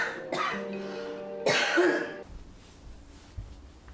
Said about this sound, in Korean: 평생 그 기침을 해왔거든요.